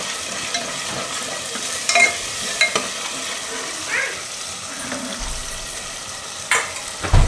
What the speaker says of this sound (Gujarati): હવે આમાં નાખી દઉં આપણે કસૂરી મેથી. એટલે આ રીતે વઘારમાં નાખીએ